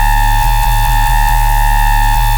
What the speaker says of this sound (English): So what that meant was to make a screech that is also noisy, yet clean, loud, and distorted.